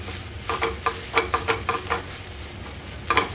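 A pizza uttapam sizzles on a hot pan just after being flipped, a soft steady fry broken by a series of crisp scraping and tapping strokes from a spatula, with no talking.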